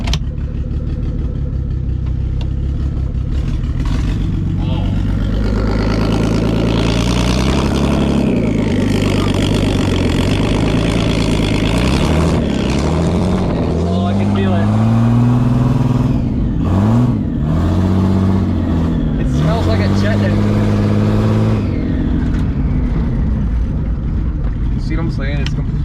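A turbocharged BMW E36 engine with a slight misfire runs rough and loud nearby, its pitch rising and falling through uneven revs for about twenty-five seconds. People talk over the engine throughout.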